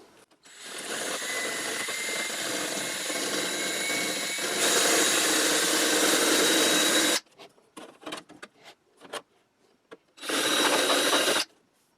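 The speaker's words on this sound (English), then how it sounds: "I'm just going to kind of scrape that off with this drill bit." A large drill bit grinds and scrapes a ridge off a portable projector's plastic housing, a loud close rasping whir for about seven seconds, then scattered faint clicks before a second brief burst.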